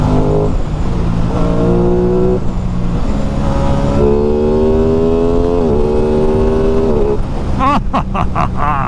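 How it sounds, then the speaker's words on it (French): An Aprilia Tuono twin-cylinder motorcycle engine roars loudly up close with a V4-like sound, its pitch climbing through gears in rising sweeps, with wind noise buffeting throughout. "le bruit c'est exceptionnel, c'est un bruit de V4 vraiment, alors que t'es juste sur un bicylindre"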